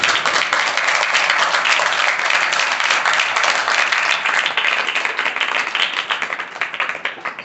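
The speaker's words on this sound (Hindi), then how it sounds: "हमेशा की तरह जोरदार तालियों के साथ" A classroom audience gives loud, continuous clapping for a maths class, a dense, even wash of applause that tapers slightly toward the end.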